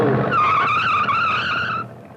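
A 1950s hot rod driven hard at a test track, its tires squealing loudly in a sustained, wavering screech over a rumbling engine for nearly two seconds before fading.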